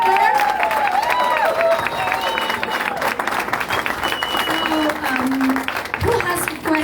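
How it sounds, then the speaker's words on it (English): A live PechaKucha audience applauding, with dense clapping throughout and cheering mixed in. "So can I ask for an extra round of applause for Claire?"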